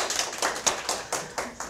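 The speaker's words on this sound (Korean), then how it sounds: "박수 한번 쳐주세요." An audience at a cooking class claps in a brief, quick, even rhythm of a few claps, fairly faint.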